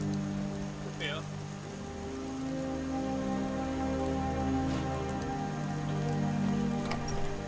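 Steady rain in Skyrim pours down continuously, a dense hiss with low rumbling underneath, occasional faint tones and light activity layered over the downpour.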